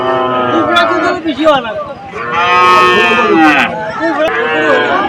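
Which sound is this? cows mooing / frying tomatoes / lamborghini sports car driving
cows mooing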